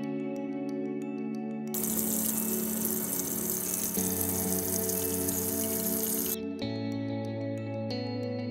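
Water gushes into a clothes washer for the rinse cycle of an off-grid laundry setup, a loud, steady rushing flow that starts abruptly, runs for several seconds and cuts off, with a humming pump tone before and after.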